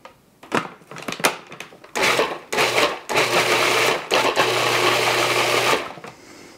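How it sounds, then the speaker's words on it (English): A food processor pulses an Indonesian spice paste for chicken in yellow coconut sauce, several short loud whirring bursts in a row, with a longer run near the end. "I'm going to give it a few more pulses and then I think it'll be ready."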